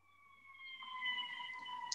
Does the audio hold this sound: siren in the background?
yes